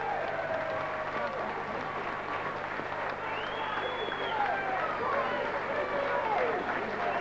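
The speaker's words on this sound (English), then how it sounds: "a fine round of applause," A darts hall audience applauds in a continuous, moderately loud wash of clapping and crowd noise, while someone speaks over it.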